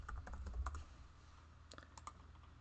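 Soft computer keyboard typing comes in two bursts of clicks with a short pause between them. The keystrokes are quiet and close over a steady low hum, with no voices.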